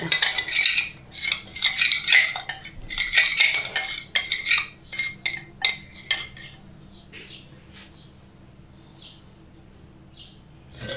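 A spoon tosses sliced carrot rounds with a tablespoon of mustard marinade in a bowl, giving quick bright clinks and scrapes in bursts that thin out into softer, sparser taps.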